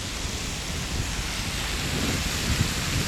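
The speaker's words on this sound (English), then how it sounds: "This waterfall going down." Steady broadband rush of falling water from a waterfall at the Emirates Palace Hotel in Abu Dhabi, continuous and moderately loud outdoors with no talk over it.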